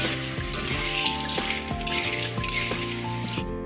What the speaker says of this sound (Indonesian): Dan ini apinya dikecilkan ya, terus diaduk